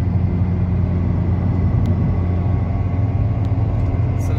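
A 2003 Aero car fitted with a Nordic Extreme kit of about 500 horsepower drives along with a steady, deep engine rumble and road roar, loud and continuous, with no one talking.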